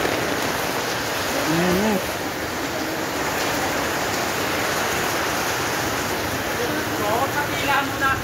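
Steady rain falls outdoors, a constant loud hiss of drops on surfaces, with a person speaking briefly over it.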